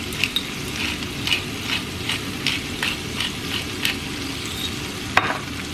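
Lobster sizzling and frying in a pan, a steady crackling hiss with periodic stirring bursts throughout, fairly close and moderately loud with no talking.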